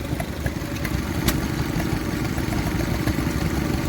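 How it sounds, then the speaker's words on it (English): A big vintage Ruston diesel stationary engine runs at an outdoor show, a steady loud low chugging clatter that continues evenly throughout with faint background sounds. "Big Ruston diesel, I can't remember what they call these, but that's very, very nice."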